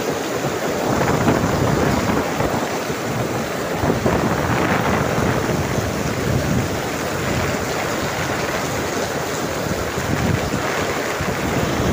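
Heavy rain pours down in Sharjah on water-filled roads, a dense, steady roar of hiss and rumble that never lets up, close and loud, with no one speaking.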